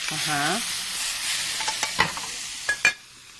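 Shrimp and calamari sizzle loudly in a pan with toasting garlic, a steady crackling hiss broken by several sharp utensil clicks and scrapes toward the end; a brief voice-like sound comes at the start.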